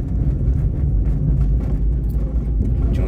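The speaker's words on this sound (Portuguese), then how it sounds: "Tinha outro carro ali, não dava nem pra ultrapassar ele." A car on the road produces a loud, close, continuous low rumble of engine and tyres that holds steady throughout, with no talking.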